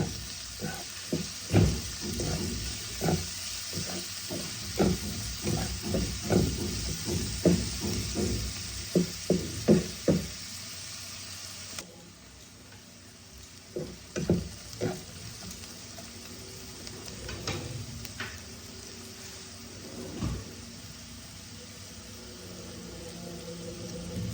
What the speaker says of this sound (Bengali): আমি আদা রসুন বাটাটাও দিয়ে দিলাম। একসাথে ভালো করে কষিয়ে নেব।